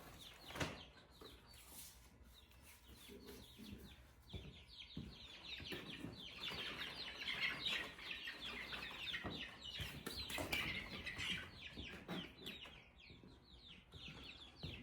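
Young chicks kept in a brooder under a heat lamp chirp and cheep continuously, a dense, close chorus of high peeps with occasional louder calls, with no talking.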